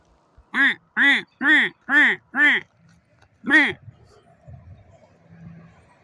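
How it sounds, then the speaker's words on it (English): Ducks quack in a run of five loud, evenly spaced calls, then one more after a pause, close by in a wetland floodplain by the Great Salt Lake, with faint background noise. "This is the great resting spot for migratory birds on earth."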